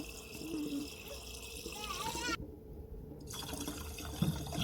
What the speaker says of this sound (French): On met le liquide de refroidissement.